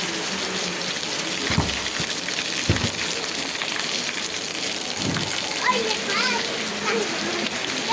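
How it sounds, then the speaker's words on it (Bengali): A sudden midday rain falls as a steady, close wash of drops on surfaces, with a few louder splashes, while people talk intermittently over it. "বৃষ্টিটা কমে যেতেছে,"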